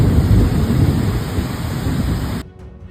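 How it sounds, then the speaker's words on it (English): Heavy rain pours in Tomigusuku City, Okinawa, a loud dense roar of water with low rumbling that cuts off abruptly near the end, leaving near silence. "Heavy rain for the first time in 100 years."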